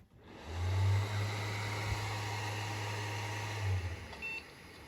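A Maxtor hard drive spins up and settles into a steady low motor hum with a faint whine above it, holding evenly for about four seconds before winding down, close and alone with no talk.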